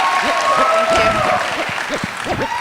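Audience applause at a live Ignite Denver talk event, a burst of steady clapping from a crowd filling the room, with a voice speaking over it.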